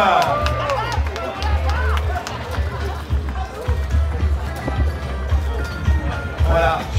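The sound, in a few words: audience applause at Transat Jacques Vabre sailing race finish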